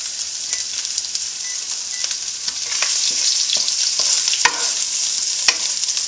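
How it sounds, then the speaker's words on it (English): Mushrooms sautéing in a pan give off a bright, steady sizzle, broken by occasional sharp scrapes and taps of stirring, close and alone with no voices. "we are going to add 1 1/4 cup mushrooms, and we're just going to saute them for about 3 minutes"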